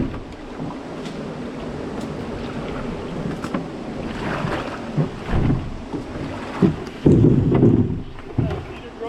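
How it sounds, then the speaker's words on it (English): A river channel's flow rushes and surges against a big rock during a rainy canoe trip, making a broad, churning roar that swells louder toward the end, with people talking over it. "The main flow of the channel is just crashing into a big rock"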